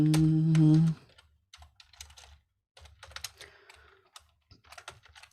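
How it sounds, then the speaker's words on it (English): Fingers tap out quick irregular bursts of typing on a computer keyboard, close and crisp with brief pauses, after a short loud tonal sound at the start. "I'm just now typing on Telegram because it's stalled loading."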